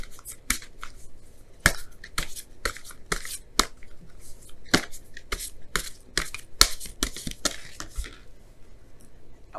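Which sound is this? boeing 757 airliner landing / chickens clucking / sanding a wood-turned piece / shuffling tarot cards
shuffling tarot cards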